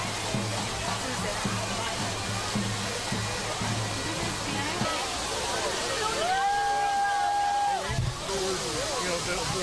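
Hoses spray water near a river by a bridge during a river greening event, a loud, continuous hissing rush of water with crowd voices and a short tonal whistle-like sound mixed in.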